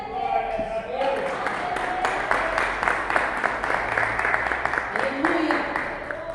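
A prayer circle congregation claps in praise in a steady crowd rhythm, loud and close, while a voice and other voices speak over it at the start and end.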